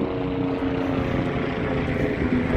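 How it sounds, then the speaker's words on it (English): Helicopters flying overhead give a steady, loud, rumbling drone that holds evenly throughout, with no voices over it. "You hear the choppers above, man?"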